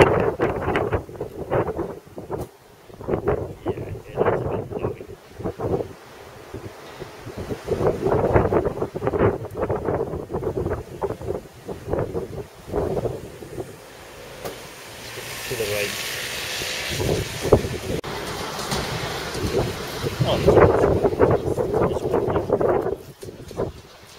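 Strong gusty wind buffets the microphone outdoors in Cardiff, with rumbling low roars and hissing gusts throughout, while someone talks intermittently over it.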